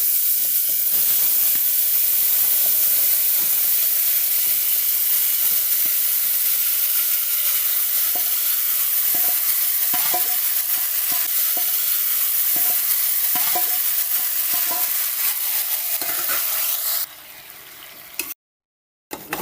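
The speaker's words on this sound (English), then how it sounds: "Now I'm going to add in my meat." Cow head meat frying in a burnt, scorched curry for a Jamaican-style dish, a loud continuous sizzle and hiss with occasional stirring scrapes, cutting out abruptly near the end.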